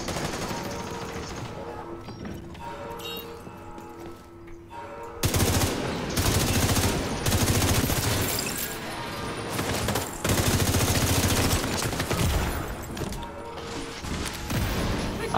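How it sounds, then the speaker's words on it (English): Rapid automatic gunfire from enemies spraying foam rounds at the player in The Division 2, during a detention center rescue mission, rattling loudly and continuously over game sounds and mechanical clatter, with bursts growing heavier after the first few seconds. "Stop shooting foam at me."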